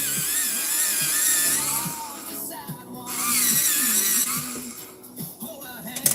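An electric pencil sharpener grinds colored pencils in several short whirring bursts, close and moderately loud, with quiet pauses between sharpenings.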